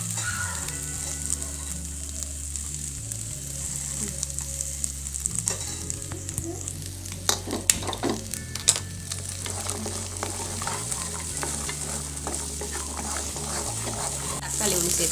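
Coconut, onion, garlic and ginger roast in a pan for a country chicken curry, with a steady sizzle and occasional scrapes of stirring close by.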